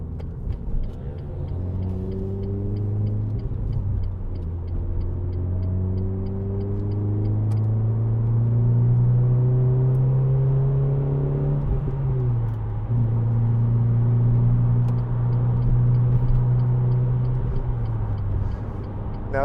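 The 2.0 VVT four-cylinder engine of a 2010 Renault Clio Renaultsport three-door revs loudly and close, the pitch climbing through the gears in smooth rising sweeps, then dropping and holding a steady drone, with no talk.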